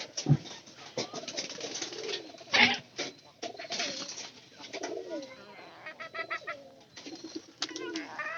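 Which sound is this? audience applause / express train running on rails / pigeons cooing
pigeons cooing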